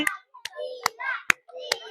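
A small group claps for a child stepping up in a balloon-bursting game, several short bursts of applause separated by excited chatter and children's voices in between.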